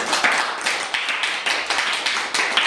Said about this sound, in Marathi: चला आपले अमृता आणि आदितीसाठी जोरदार टाळ्या झाल्या पाहिजे।